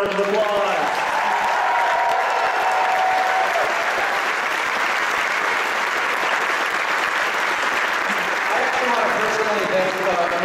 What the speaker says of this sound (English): Give them a collective round of applause.